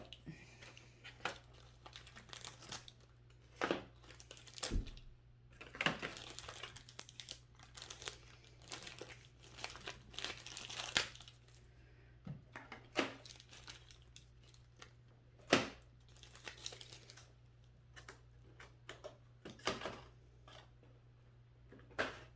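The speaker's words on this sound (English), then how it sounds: "so let's go ahead and add a pencil to each one" Plastic goody bags crinkle and rustle as pencils are dropped into them one by one, with sharp irregular crackles and occasional small knocks close by, no talking.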